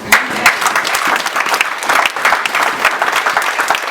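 A church audience breaks into dense, steady applause during a sermon, sustained and fairly loud throughout with no distinct voices standing out.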